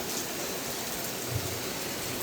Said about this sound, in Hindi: आज तो सुबह से ही बारिश हो रही है।